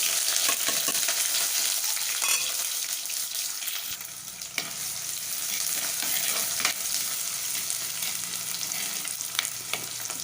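Onions sautéing in a pan for a sea prawn curry, heard as a loud, steady, close-up sizzle and crackle with a few scraping stirs, and no talk.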